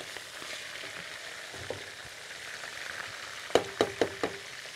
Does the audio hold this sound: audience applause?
no